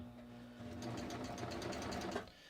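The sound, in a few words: serger sewing a garment seam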